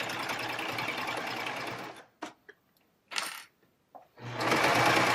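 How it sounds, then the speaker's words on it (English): Serger sewing machine stitching through layers of a placemat for a round table, a loud steady run that stops, a few short clicks and bursts in the quiet, then the motor starts again. "Now this entire project is done on the serger."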